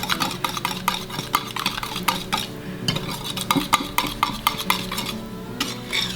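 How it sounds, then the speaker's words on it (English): Pumpkin pie spice and vanilla being whisked in a bowl with a mix of ingredients, producing rapid rhythmic clicks and scrapes of a whisk against the bowl, close and continuous, with brief pauses between strokes. "Just gonna whisk it together."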